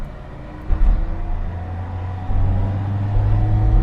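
Isuzu 117 Coupe accelerating hard from inside the car, its engine droning loud and steady and the pitch climbing in stages as the revs build. Nobody speaks.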